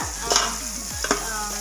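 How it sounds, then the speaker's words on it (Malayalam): Grated coconut is frying lightly in a pan, a steady soft sizzle broken by a couple of scraping stirs of a spoon against the metal. "തേങ്ങ പിന്നെ എല്ലിങ്കപ്പഴി ഞാൻ ചെറുതായിട്ടൊന്ന് വറുക്കും കേട്ടോ"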